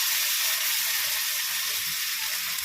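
A spice paste of ginger, onion, garlic and chilli fries in hot oil in a pan, giving a steady, close, loud sizzle with a dense crackling hiss that runs unbroken throughout, with no voices.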